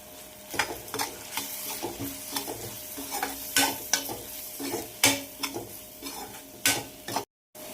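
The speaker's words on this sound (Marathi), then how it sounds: "आणि मसाले मी छान परतून घेते." Steady sizzling of spices frying in a pan for a dried fish chutney, with repeated scraping stirs and clinks of a utensil against metal, close up, no talking.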